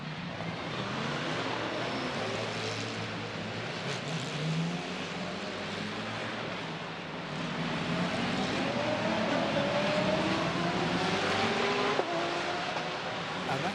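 GT race cars accelerate during qualifying at the Macau Grand Prix street circuit, their engines a steady, fairly distant roar that swells slightly partway through with no talk over it.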